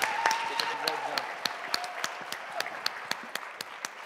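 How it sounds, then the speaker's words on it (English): Applause from a pitch competition audience, steady at first and thinning into sparse individual claps, with a voice talking over the start. "Please give her a round of applause."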